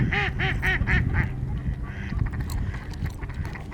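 Several ducks on an icy Utah lake in winter let out a quick run of loud, close quacks, then continue with softer, scattered calls over a background of water and outdoor noise.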